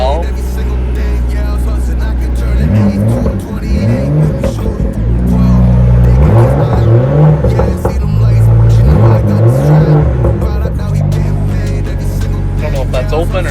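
BMW M2 track car started up and revved: a loud, close engine rumble with several sharp revs rising and falling in quick succession, a voice occasionally talking over it.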